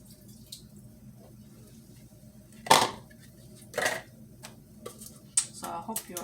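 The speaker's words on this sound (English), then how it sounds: "I'm gonna wash these off, you guys" Tap water splashing as cucumbers and tomatoes get washed at a sink, with a few distinct splashes and drips over quiet background noise, close and fairly soft.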